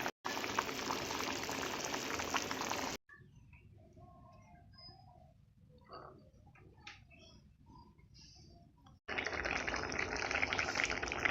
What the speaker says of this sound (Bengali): এভাবে ভালো করে ফুটিয়ে নেব